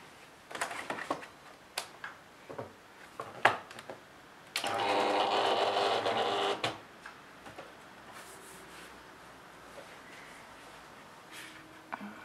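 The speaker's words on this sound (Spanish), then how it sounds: "Voy a apretar Send to Silhouette y voy a dejar que corte." A Silhouette Cameo cutting machine cuts paper at raised speed with a double cutting pass, giving a close, steady mechanical whir for a couple of seconds, framed by scattered clicks and taps of the carriage and handling.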